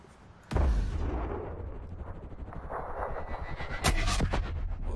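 Heavy gunfire booms in the video game Sniper Ghost Warrior Contracts, two loud sharp blasts standing out over a dense rumbling battle din with continuous low explosions.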